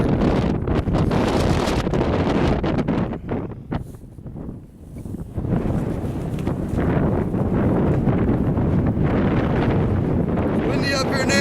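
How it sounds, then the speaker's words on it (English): Strong wind roars and buffets steadily across a mountain summit during a long hike, loud and close on the microphone with a brief lull midway, while someone speaks briefly. "Windy up here now."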